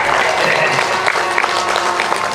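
Brief, loud audience applause at a gathering, a dense continuous patter of clapping hands with a few louder individual claps standing out, lasting just over two seconds.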